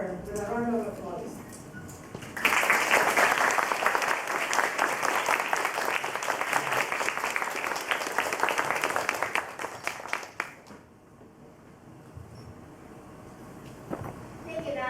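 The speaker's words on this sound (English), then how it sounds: "Please welcome her with a round of applause" An audience at an English speech contest greets a contestant with loud, sustained applause lasting about eight seconds, with talk before it and quieter room sound after.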